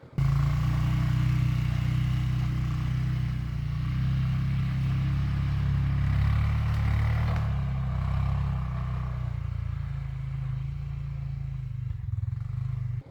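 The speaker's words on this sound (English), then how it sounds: "there's the quad and the trailer that we use for taking out the timber" A quad bike engine idles steadily and loudly up close in winter, a low continuous rumble that holds for the whole stretch with slight shifts in pitch.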